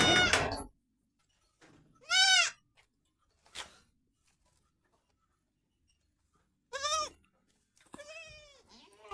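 Young Sirohi goat kids bleat nearby in a few separate wavering cries with quiet gaps between them, the last calls coming in quick succession.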